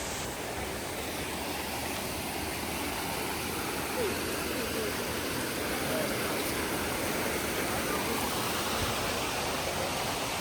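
Water rushing along a rocky stream on the path to Jatashankar near Girnar, Junagadh, a steady broadband roar that stays constant and fairly close for the whole stretch.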